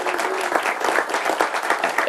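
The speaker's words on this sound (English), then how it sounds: "If we can give them a round of applause." An audience at a board meeting breaks into a dense, steady round of applause, loud and close throughout.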